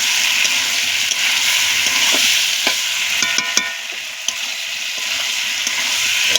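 Chicken pieces and fried potato cubes for chicken ghugni sautéing in hot oil in a pan, a steady loud broadband sizzle with occasional scrapes and clinks of a stirring spoon, no voices.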